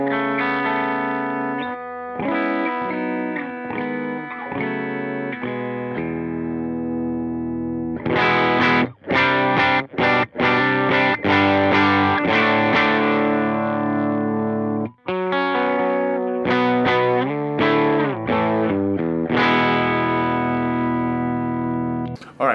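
Electric guitar played through a modeled amp on a Line 6 HX Stomp, set up for praise and worship tones: sustained chords, then a run of choppy strummed hits with light distortion and effects, loud and alone with no talking.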